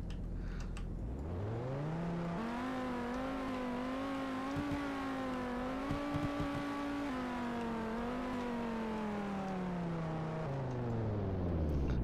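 A car engine driving in the Roblox game Greenville, a steady, continuous hum that rises in pitch, levels off and settles, heard alone at moderate volume.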